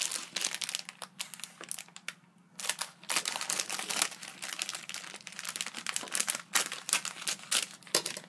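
A Topps Match Attax Champions League 17/18 starter pack is opened up close, with continuous loud crinkling and tearing of plastic and packaging in irregular bursts, pausing briefly partway through.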